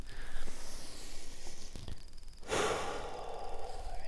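Slow, deep breaths during a standing forward fold in qigong practice. Audible inhales and exhales sound close and airy, and one long sighing exhale comes about halfway through.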